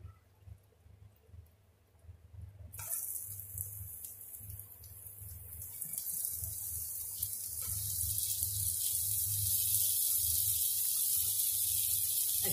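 Two sliced onions hitting hot oil in a pan for butter paneer, a sudden loud sizzle that starts a few seconds in and keeps hissing steadily, growing a little louder, with low hum underneath and no talk.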